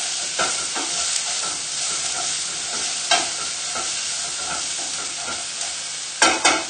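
Onions fry in a pan with a continuous loud sizzle, punctuated by occasional utensil clicks and scrapes as they are stirred, with a burst of stirring near the end.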